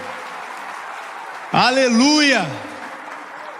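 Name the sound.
church congregation applauding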